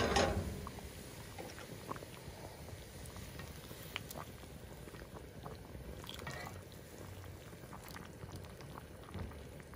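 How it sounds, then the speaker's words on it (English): Boiling soup liquid for a melon seed soup is poured over meat in a pot, giving a steady bubbling sizzle that starts with a louder splash and then simmers evenly at close range. "now that it's boiling, as you can see, I am going to pour it onto my meat"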